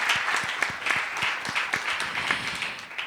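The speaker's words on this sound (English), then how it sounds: "Let's give them a big round of applause." A conference audience gives a cybersecurity panel a sustained round of applause, dense overlapping claps filling the room at an even level with no talking.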